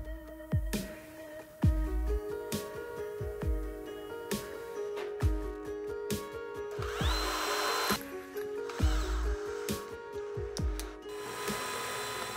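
A cordless drill with a countersink bit, working on a motorcycle brake bracket, runs in repeated short bursts, with brief pauses and clicks between each spin, close and fairly loud, with no voices.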